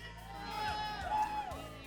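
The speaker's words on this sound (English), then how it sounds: "They're hooting and hollering for you." A tournament crowd at a card game championship in Indianapolis hoots and cheers, a steady roar of mixed voices with shouts rising briefly, loud and continuous throughout.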